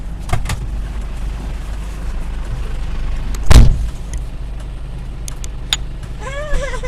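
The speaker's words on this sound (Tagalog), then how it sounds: "ganda ng sasakyan ni Yuri." A car near an airport, with steady engine hum and road noise, a brief thump like a door closing midway, and faint clicks and rattles around it.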